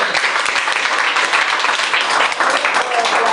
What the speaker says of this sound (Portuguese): Aplauda o Senhor Jesus, irmão.